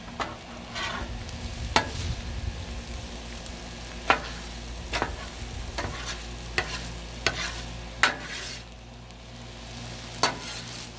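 Food being stir-fried on a flat griddle, a soft continuous sizzle broken by sharp metallic scrapes and taps of a spatula every second or so across the griddle surface.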